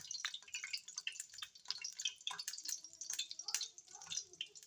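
Potato kachoris sizzle in lightly heated oil, a faint, irregular crackle of popping bubbles that continues throughout, with someone speaking quietly over it.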